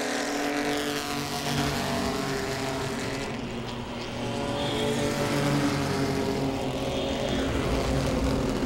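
Pro-Six race cars circling the oval at Langley Speedway, a steady, blended engine roar from the field that swells slightly as cars pass, heard from a distance with no voices.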